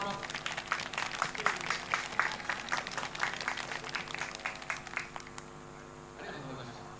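Applause for the winning team at a Tokyo finals event, a dense burst of clapping that runs for about five seconds and then stops, leaving a quiet room hum. Talk can be heard faintly underneath.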